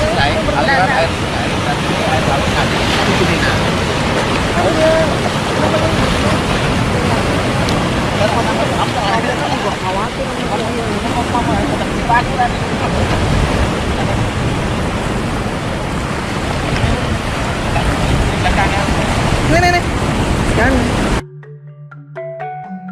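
River water flows into the sea at a melukat purification bathing site in Bali, a continuous loud rush of water and surf heard up close, cut off abruptly near the end.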